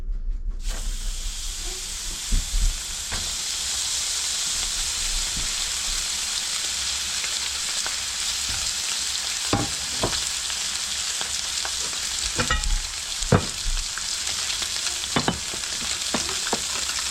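Butter sizzles loudly and steadily in a frying pan in a home kitchen, a constant bright hiss with occasional clicks and clatter, with no voices.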